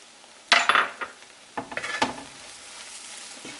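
Lamb brain fry with pepper and curry leaves is stirred in a pan: a few sharp clinks and scrapes of a utensil against metal, then a soft, faint sizzle.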